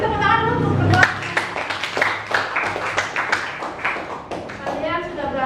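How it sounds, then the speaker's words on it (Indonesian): Classroom clapping for two students: a scattered run of hand claps close by, mixed with talking voices that carry on over and after it. "Beri tepuk tangan dulu untuk kedua."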